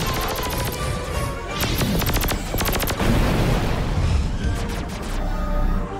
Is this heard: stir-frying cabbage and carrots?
no